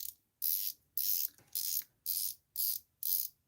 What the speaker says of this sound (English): let's give you the bezel rotation